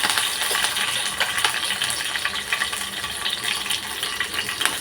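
Curry leaves crackling in a spoon of hot oil in a kadhai for a Marathi misal tempering, a close busy spattering crackle with rapid pops throughout.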